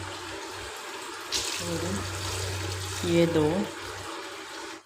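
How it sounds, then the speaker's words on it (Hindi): Water poured from a glass into a pot of mutton paya curry in a home kitchen, a steady splashing pour with a second short pour later, while a voice speaks briefly over it. "अब हम इसमें पानी ऐड करेंगे।"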